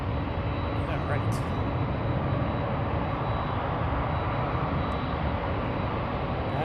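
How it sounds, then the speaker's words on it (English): A loud airplane passing near Seattle airport, its steady broadband engine roar filling the whole clip at a constant close level with no gaps. "That is a loud plane."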